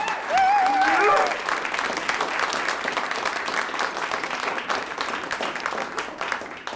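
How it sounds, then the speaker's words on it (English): An audience at a poetry recitation contest bursts into sustained applause for the contestants, many hands clapping in a dense, even wash that fades slowly, with a brief whistle near the start. "Let's have one more round of applause for all of our contestants."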